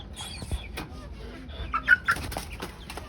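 Chickens on a rooftop garden give a few soft clucks and short calls at moderate distance, with scattered knocks and faint rustling around them.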